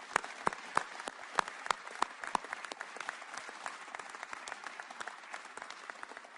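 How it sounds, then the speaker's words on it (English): Civilians applaud service members at a ceremony marking Madison's Truax Field selection for the F-35 with the 115th Fighter Wing: steady, moderately distant crowd clapping with a few sharp louder claps early on, continuing throughout. "let's give them a warm round of applause"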